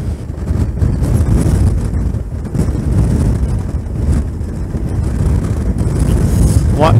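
Heavy wind buffets the microphone on a Suzuki V-Strom 650 fitted with a Kappa Airstream windscreen while riding into a headwind, a loud continuous low roar with gusty surges throughout and no talking.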